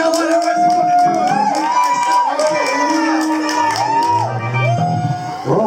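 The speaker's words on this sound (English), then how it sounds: "give me a round of applause if you think I should give myself a round of applause" A loud audience cheers and whoops, with shouted voices rising and falling over a steady crowd roar that fills the whole stretch without a break.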